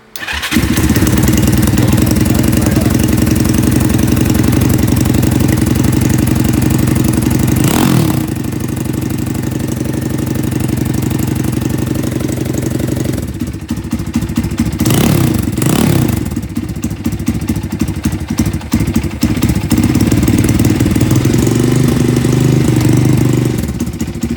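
A 1970 Honda CT70 motorcycle fitted with a 190cc engine starts with the choke pulled and runs close by, a loud steady low-pitched putter that briefly dips and rises in pitch as the throttle changes, with no talking.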